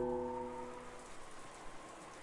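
Steady rain falls on a dark night in the visual novel game Umineko, a broad, even hiss that runs throughout, with a brief tonal note fading out in the first half second.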